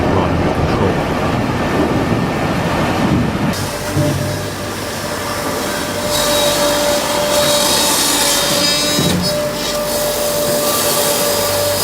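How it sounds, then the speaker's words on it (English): An industrial wood chipper shreds recovered waste wood in a recycling factory. It makes a loud, continuous roaring grind that shifts in pitch and intensity as material feeds through. "The raw material is fed into the chipper, where a system of high-speed rotating blades continuously cuts the large pieces into smaller particles."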